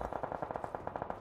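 Rapid automatic gunfire from the battle royale video game BGMI, a quick burst of about a dozen evenly spaced shots at moderate, slightly distant volume, with no talk.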